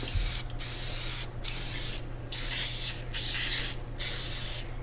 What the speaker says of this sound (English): I'm going to spray some of this cooking oil in here so that it doesn't stick.